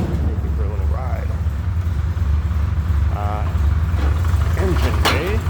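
A 1965 Triumph TR4A convertible's 2,138 cc inline four-cylinder engine with twin Stromberg carburetors idles in a steady, low rumble nearby, while someone talks over it.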